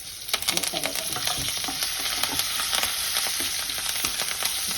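A spoon stirs a sizzling tempering through semiya pulihara, vermicelli with green chillies and lemon juice, in a pan on a low flame, with close, continuous scraping and stirring over a steady fry hiss.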